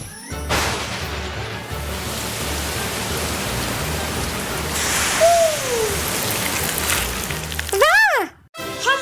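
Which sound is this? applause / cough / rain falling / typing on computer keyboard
rain falling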